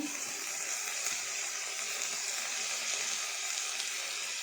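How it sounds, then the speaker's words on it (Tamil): Water sprinkled onto vegetables cooking in a hot pan sets off a continuous loud hiss and sizzle, close and steady with no talk. "இப்போ காய் வேகிறதுக்கு தேவையான அளவு தண்ணி தெளித்து"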